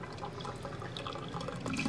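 Water runs steadily from an RV faucet, fed from the fresh water tank through the water pump and lines. It is a constant close splashing trickle with small drips on top and no voices.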